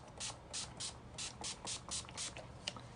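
Makeup setting spray mists onto a face in a quick series of about ten short, close hissing bursts, evenly spaced, with no voices.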